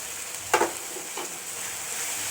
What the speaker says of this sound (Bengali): এটা ভালো করে 3 মিনিট কষিয়ে নিতে হবে।